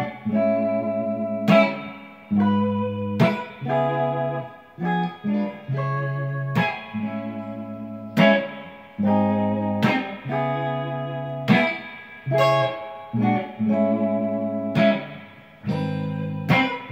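Guitar playing a song, with strummed chords in a steady repeating pattern, each strum ringing out before the next, heard close and alone with no talking.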